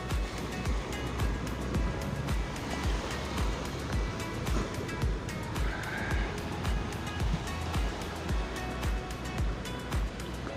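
Sea waves rolling onto the beach at night on Saint Martin's Island, a steady close roar of surf with rhythmic swells and washes, no voices.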